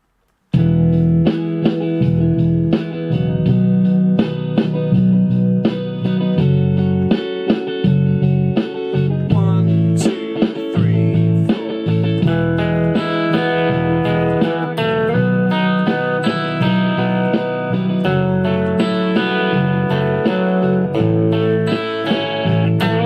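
Electric guitar plays a bluesy Britpop-style lead with bends over a full backing track of bass and drums, continuous and loud.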